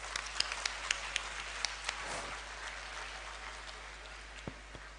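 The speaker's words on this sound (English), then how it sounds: "we would like to demonstrate our heartfelt gratitude to you with a big" Audience claps at a graduation convocation ceremony, a faint, thin patter of scattered hand claps with a few sharper individual claps standing out across the stretch.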